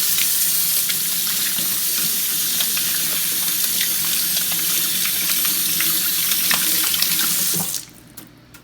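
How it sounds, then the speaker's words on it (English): Tap water runs steadily into a kitchen sink as a hand is rinsed under it, a loud continuous splashing rush that cuts off abruptly near the end, leaving a quiet room. "Rinse my hand off real quick."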